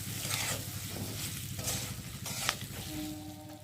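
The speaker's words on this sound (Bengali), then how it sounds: "জিরের গুঁড়ো দিয়ে একটু ভালো করে ভেজে নিলাম" Ground cumin frying in oil in a pan for a Bengali dalia recipe, giving a steady close sizzle with soft stirring scrapes throughout and no voices.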